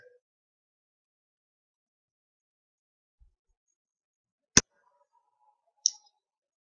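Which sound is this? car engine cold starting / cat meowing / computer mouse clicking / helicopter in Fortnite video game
computer mouse clicking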